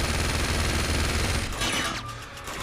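Automatic gunfire from the video game Uncharted 2, a steady rattle of rapid shots filling the clip at moderate level, easing slightly toward the end.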